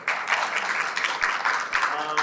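Steady, dense applause from a forum audience at a culture and arts education event in Gongju, continuing at a constant level for about two seconds.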